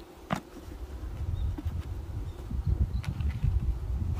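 Honeybees drone around an open hive in a low, continuous buzz that rises and falls as individual bees pass close, with a few soft knocks and rustles of hive frames being handled.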